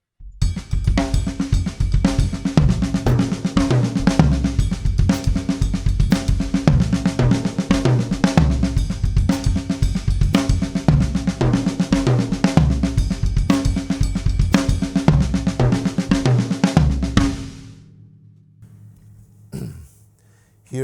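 A drum kit plays a steady, busy groove built from paradiddle combinations, with double strokes and single strokes moving onto a tom. The pattern runs loud and continuous before the kit rings out into quiet.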